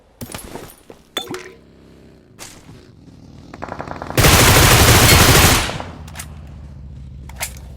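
Automatic gunfire from a fight in a solo-ranked battle royale game: scattered single shots build into a loud, dense sustained burst lasting over a second, followed by a few sparse shots, with no talking.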